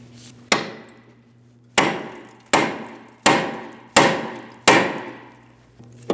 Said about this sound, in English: we're going to tap on the steering knuckle itself, causing vibration